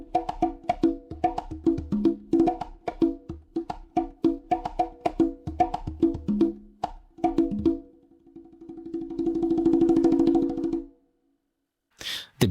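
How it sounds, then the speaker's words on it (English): A conga pattern generated in EZdrummer 2 plays quick, close hand-drum hits in a steady rhythm for about eight seconds. A sustained tonal note follows, then a short burst at the end. "we generated the conga pattern through Easy Drummer 2."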